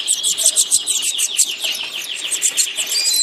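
Rapid, high-pitched chirps and twittering from red siskin chicks pour out continuously, close by and fairly loud, with no voices.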